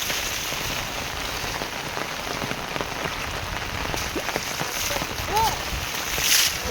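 Steady rain falls onto a flooded road, making a soft, even hiss of drops striking water that stays fairly quiet throughout.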